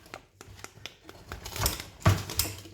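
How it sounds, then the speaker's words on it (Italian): A metal chain rattles and clinks in irregular, fairly quiet taps and jangles while a Sardinian suckling pig is cut and served. A few louder clanks come toward the end. "È una catena, non so se si sente"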